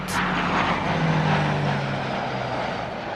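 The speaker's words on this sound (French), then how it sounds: "Les avions des gardes-côtes mitraillent l'édifice en rase-motte." Coast guard planes make a low strafing pass over Alcatraz prison, with a loud, steady propeller-engine roar throughout and no voices.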